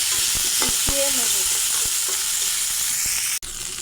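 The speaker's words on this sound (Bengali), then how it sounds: "আস্ত জিরা, আস্ত ধনিয়া আর টমেটো কুচি, ওইগুলো ভালো করে ভেজে মিশিয়ে নেব" Whole cumin, whole coriander, green chillies and chopped tomato frying in a pan give a loud, close, continuous sizzle with a few scraping stirs, briefly cut near the end, no talking.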